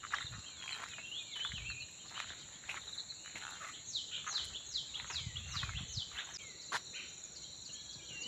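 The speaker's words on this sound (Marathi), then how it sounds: "तिकडनं आवाज जास्त येतोय पक्ष्यांचा।" Birds call from trees in a Konkan village near Guhagar, bright chirps and short trilling notes repeating through the clip, busiest in the middle, over faint crunching footsteps and insect hum.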